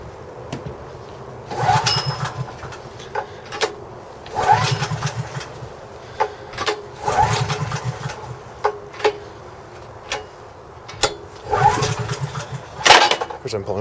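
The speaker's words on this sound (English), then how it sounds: "Let's see if we can get it to start." A Honda EB 5000X generator engine is pull-started again and again without catching. About half a dozen recoil pulls come close up, each a brief rattling churn, with pauses between them.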